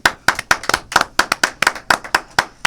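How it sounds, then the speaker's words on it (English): Clapping from a small audience at a nightclub-style event, a few sharp, close claps in an uneven, quick rhythm, loud and distinct with little background noise. "Can we get a clap for that?"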